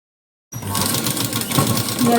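A sewing machine starts up after a brief silence and stitches a blouse front, its fast, steady mechanical whir and rattle running loud and close to the end.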